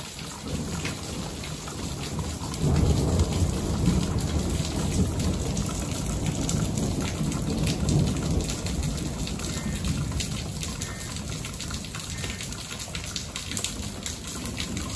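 Heavy rain pours steadily during a hillside thunderstorm near Big Bear, California, with deep thunder rolling through the downpour and swelling louder partway through before easing again.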